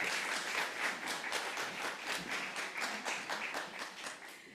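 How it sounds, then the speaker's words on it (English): Applause from the audience at a women's empowerment summit, moderately quiet, with a loose, rhythmic pulse of many hands clapping nearly in step over several seconds. "let's give them a big round of applause"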